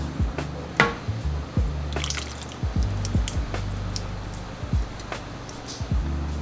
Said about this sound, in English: I'm gonna go in with my marinara sauce.